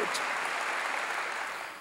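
A church congregation applauds together in a steady, full wash of clapping that holds evenly before tapering off toward the end.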